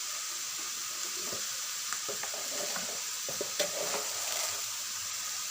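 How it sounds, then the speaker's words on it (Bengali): Radish greens frying in a pan with sugar, a steady soft sizzle with light scraping and clicking of a stirring utensil, close and alone without talk. "চিনি দিয়ে এটাকে একটু ভালো করে আবার নেড়ে দিতে হবে"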